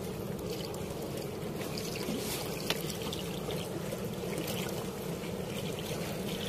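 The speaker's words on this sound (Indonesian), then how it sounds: "Ini kondisi airnya sangat bagus, arusnya deras, ombaknya lumayan." Fast-flowing river water rushes through a weir gate as a steady, dense roar, close and continuous, with no talking.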